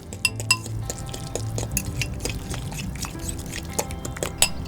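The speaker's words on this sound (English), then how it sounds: "And then I'm going to whisk these together using a fork." A fork whisks honey and ricotta together in a bowl, making quick, close metallic clinks and light scraping taps in an uneven rhythm, with no talking.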